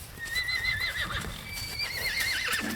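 A young Holsteiner foal being led whinnies repeatedly, its high, wavering neighs running almost continuously and fairly close, with faint hoof clops and handling noise beneath and no talking.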